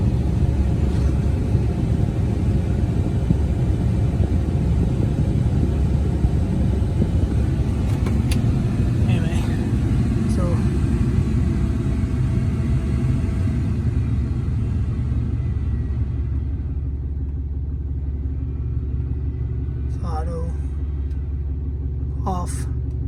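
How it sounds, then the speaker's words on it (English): A 2010 Dodge Ram 2500 Cummins Megacab diesel truck rumbles low and steady nearby, then eases to a quieter idle near the end. A few faint clicks and short bursts of talk are heard. "Let me pull the truck back in."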